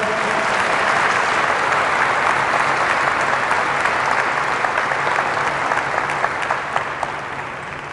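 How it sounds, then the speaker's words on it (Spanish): Loud, sustained applause from a large church congregation at a Catholic prayer gathering, dense clapping throughout that eases slightly at the end. "Fuerte el aplauso al Señor Jesús."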